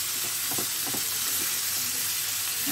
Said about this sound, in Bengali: এর সঙ্গে আমি চিকেনটা দিয়ে দিচ্ছি, একটু ফ্রাই হয়ে যাবে।